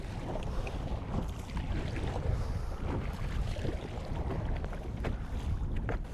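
Strong wind roars over the microphone as waves slap against a fishing kayak on open water in Argentina, a constant loud rushing with splashes and no talk.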